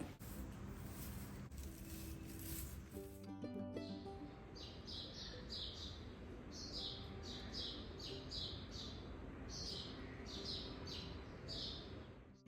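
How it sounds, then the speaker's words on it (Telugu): Sparrows chirp at dawn in a quiet home, with repeated bright, bursty calls. They start after the first few seconds and continue in clustered bursts over a steady low background hum. "ఏ సౌండ్స్ ఉండవు. ఇంకోండి ఇలా పిచ్చుకల సౌండ్ తప్ప."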